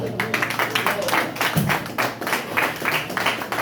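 A church congregation applauds with quick, steady clapping that fills the room at moderate volume, with voices mixed in beneath it.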